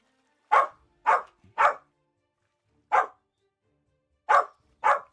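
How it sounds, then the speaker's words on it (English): A small dog barks six times close by, three quick barks in a row, then a lone bark, then two more, with silence in between and no talking. "What is it, little dog?"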